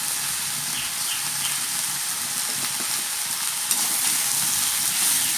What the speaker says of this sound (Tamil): இப்போ நல்லா வதங்கட்டும்.